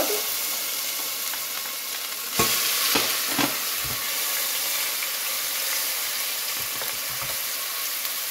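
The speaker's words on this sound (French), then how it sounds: "on met l'oignon dans l'huile chaude." Onion sizzling in hot oil for Moroccan harira, a steady bright frying hiss with a louder burst as it hits the pan, followed by spoon scrapes and stirring knocks.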